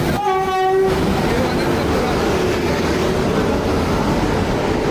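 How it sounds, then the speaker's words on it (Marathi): Veraval Express pulling into a crowded station, a loud train horn blast at the start followed by continuous rumbling and clatter of the rail cars rolling close by. "वेरावल एक्सप्रेस आलेली आहे"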